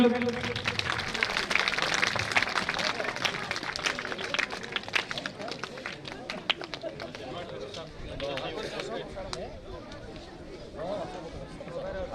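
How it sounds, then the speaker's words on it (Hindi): Audience applause greeting guests at a school annual function and donor honouring ceremony, a steady broad wash of many hands clapping that carries on throughout, with voices talking and crowd babble mixed in beneath it. "तालियों से स्वागत करें सभी लोग।"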